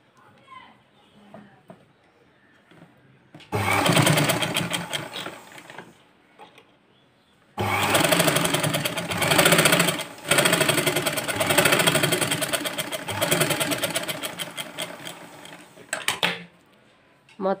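A sewing machine stitches a simple blouse in long close bursts of rapid, rhythmic mechanical clatter, loud and steady, with short quiet pauses between runs and faint speech in the gaps.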